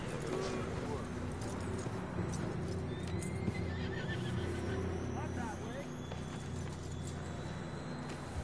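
Horses whinny and neigh with steady clip-clop of hooves in Red Dead Redemption 2, a continuous outdoor game scene with faint voices in the background.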